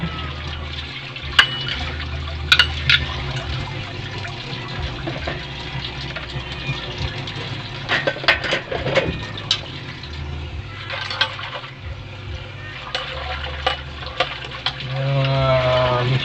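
Running water splashes steadily with clinks and clatters of plates, pots and a wok being washed, continuing throughout with occasional louder knocks.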